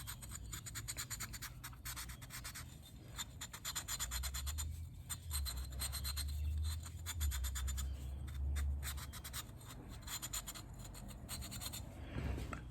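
Scotch-Brite pad scrubbing the edge of a piston from a Holden Grey motor, a steady close scratchy rubbing that runs continuously for the whole stretch with slight swells in intensity.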